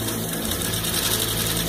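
A vintage Merrow serger sewing machine stitches and trims fabric, giving a steady, loud, continuous mechanical whir with fine rapid ticking throughout.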